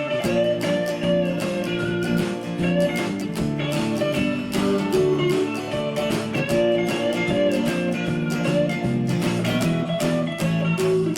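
Guitar chords strummed in a steady, driving rhythm back the solo of a song, playing continuously and fairly loud with no talk.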